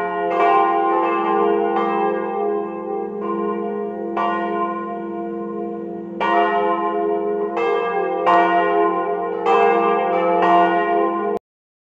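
Church bells of Cristo Redentore in Monsummano ring a distesa, loud and close, with repeated bell strikes and a rich sustained hum sounding continuously for about eleven seconds before stopping abruptly.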